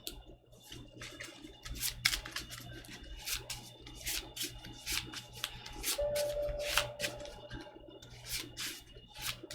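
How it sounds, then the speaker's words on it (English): Playing cards shuffled repeatedly during a tabletop card game session, a steady run of crisp riffling bursts close by, with a faint background hum and no talking. "And they both get shuffled back into my deck."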